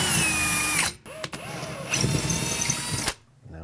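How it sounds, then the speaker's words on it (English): A power drill runs in short bursts while pre-drilling holes in a wall for anchors during a door chime install, its whine starting and stopping several times with gaps of near silence and some handling noise. "I'm going to take a drill bit that is slightly smaller than the anchors they have and pre-drill in the wall"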